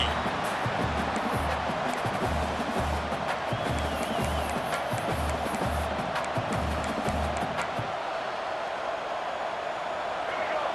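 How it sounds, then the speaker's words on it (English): A stadium crowd roars in EA Sports College Football 26, a loud continuous wash of cheering with a rhythmic pulsing chant through most of the stretch, easing into a steady crowd hum at the end. "This crowd trying to make life miserable for this offense."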